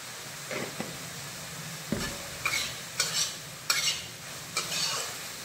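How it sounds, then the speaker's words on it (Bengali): Chicken, already browned, sizzling in a pan with a little garam masala added, with a steady low fry and several distinct scraping stirs of a spatula spaced through the clip, no talking. "চিকেনটা আমাদের কষা হয়ে গিয়েছে। এবার দিয়ে দিলাম অল্প একটু গরম মশলা।"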